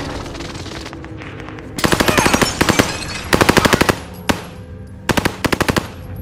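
Bursts of automatic gunfire from the video game Call of Duty Warzone, several loud rapid volleys separated by short pauses over a constant ambient background, with a single isolated shot among them.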